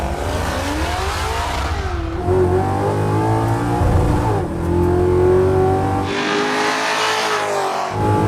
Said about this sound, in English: this is a first run in the Crusher Camaro with a new LS engine